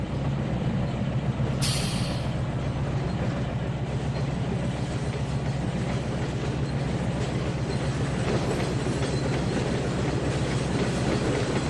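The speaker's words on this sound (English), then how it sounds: "Here comes my SW1500." An SW1500 diesel locomotive rolls along the tracks in the train simulator Trainz 2019, with a steady loud rumble and rhythmic clattering of wheels over rail joints and a brief hiss of air near the start.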